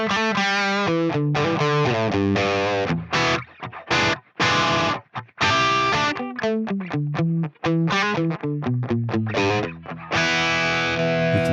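Distorted electric guitar riffing through a Line 6 Helix amp and cab model on the bridge pickup, close and loud, with chugging palm-muted notes and ringing chords separated by brief stops.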